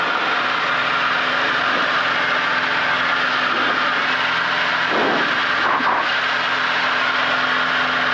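A small airplane engine drones through takeoff and climb-out on a flight toward Charlotte Motor Speedway, a loud, steady roar with wind noise that fills the whole stretch without speech.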